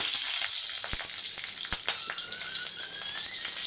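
Pieces of green chilli and dried red chilli fry in hot oil, giving a close, dense, steady sizzle with a few sharp crackles and pops and no talking.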